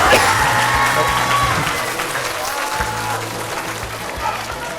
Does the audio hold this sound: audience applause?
yes